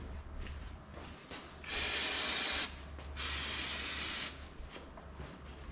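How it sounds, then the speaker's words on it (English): Aerosol can of brake cleaner sprayed into a car's air filter, two bursts of steady hiss about a second each, close and clear over faint background noise. "spray a little bit of brake cleaner inside the air filters"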